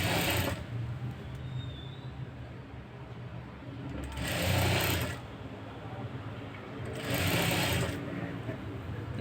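A sewing machine stitches piping onto a blouse in three rapid whirring bursts, each lasting a second or so, separated by quieter pauses while the fabric is turned.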